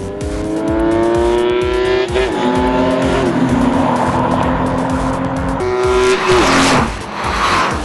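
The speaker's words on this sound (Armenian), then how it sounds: "Մեքենաները փոխվում են շարժիչների հրունդյունով օդը ցնցելով" Two BMW 325 cars at a drag race roar at full throttle, loud and close, with engines climbing through the revs and shifting gears several times amid tire squeal, with no voices.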